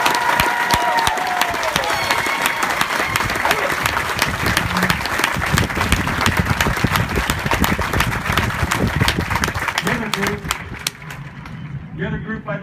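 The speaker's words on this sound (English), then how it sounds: "please join me in a round of applause for the Marines." Applause for the Marines at a Devil Pups graduation ceremony in stands and bleachers: a dense, sustained crowd clapping fills the whole stretch, loud and continuous, thinning slightly near the end.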